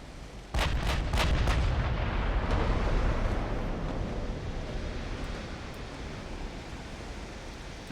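Warship secondary guns firing in Ultimate Admiral: Dreadnoughts, several sharp booming shots in quick succession over a loud rumbling sea-and-battle wash that lingers and slowly fades.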